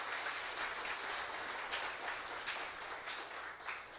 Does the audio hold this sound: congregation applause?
yes